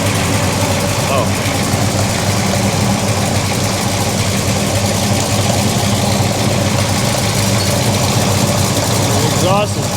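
A deep, rumbling big-block Chevy V8 in a Pontiac idles steadily and loudly up close, its throbbing exhaust note constant throughout; the exhaust is hitting the control arm.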